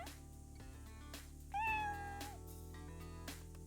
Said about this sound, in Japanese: 名前を呼べばにゃーって返事してくれますからねえ